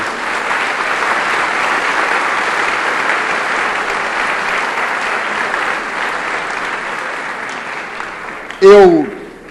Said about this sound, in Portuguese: E as palmas para o Senhor Jesus Cristo.